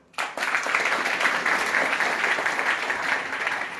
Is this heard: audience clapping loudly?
yes